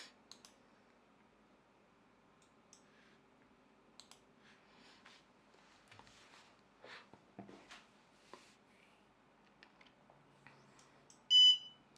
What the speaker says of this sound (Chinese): 这时候对蜂鸣器初始化，然后响一声